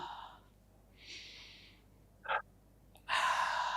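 Slow exhale during a guided calming breathing exercise, a soft airy breath heard close up, with a brief sharper breath sound and then a stronger breath near the end, no talking.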